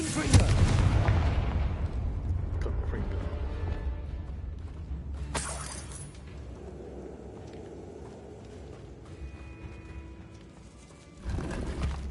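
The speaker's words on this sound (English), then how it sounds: "j'aime bien le nouveau spell d'explosion. Le Bombardio." A Bombarda explosion spell in the video game Hogwarts Legacy goes off as a loud booming blast, followed by a long rumbling tail of game ambience and a second burst near the end.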